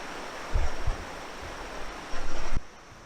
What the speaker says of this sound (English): And here's the Amicalola Creek.